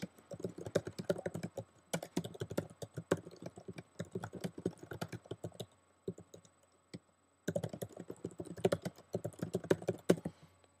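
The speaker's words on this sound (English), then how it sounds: "And I'll type that in here." Fingers typing on a computer keyboard while filling in a Google Form, with rapid close clicking in bursts that stop for about a second twice before resuming.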